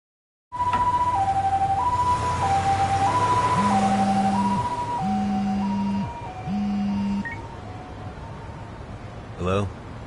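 An ambulance siren wails in the video game Lost Judgment, a loud, steady two-tone cycle with a second siren pattern joining partway, under the rumble of a vehicle.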